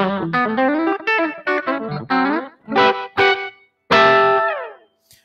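A Gibson Firebird I electric guitar on its back pickup with a clean tone plays a series of plucked chords and notes, each ringing briefly before the last chord sustains and fades.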